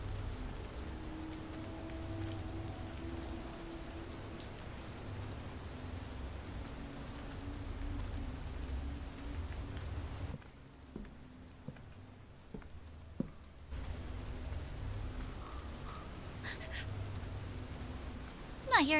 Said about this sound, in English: I got drenched in the rain.